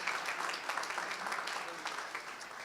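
An audience at a national forum on the war in Crimea applauds, a steady wash of many hands clapping at moderate distance, continuous throughout.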